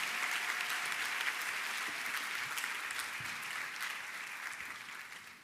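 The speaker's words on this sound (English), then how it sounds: "Let's give ourselves a round of applause while Stephanie goes to the stage." Audience at a foundation convention luncheon applauding steadily, a dense crowd of clapping hands that holds for several seconds and slowly tapers, no talking over it.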